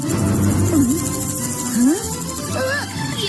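A loud giant mosquito buzz drones close by, with whining pitch glides sweeping up and down over a steady chirring backdrop.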